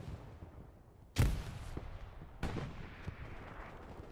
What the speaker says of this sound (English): there will be some artillery stuff coming in here